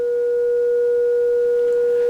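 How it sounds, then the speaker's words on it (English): A steady pure sine-wave test tone holds one constant pitch throughout, clean and continuous with no talk, and a faint higher overtone line rides above it. "simple sine wave"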